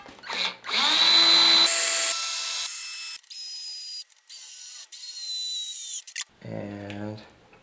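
A power drill bores a hole in the center of a homemade cello, with several loud, close bursts of whining motor that start and stop, and a short voice at the end.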